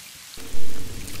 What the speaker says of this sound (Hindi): बारिश की आवाज़ कितनी अच्छी और आरामदायक होती है ना?